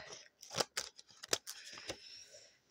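Pinking shears snip through paper in several quick, crisp cuts, quiet and close, with no talking.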